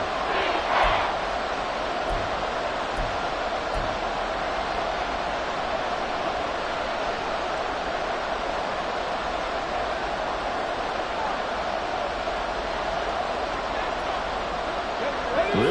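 Football stadium crowd roaring during a Jets game, a dense continuous wall of cheering and noise heard from a distance, with commentary voices mixed faintly underneath.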